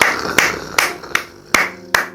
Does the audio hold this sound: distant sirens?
no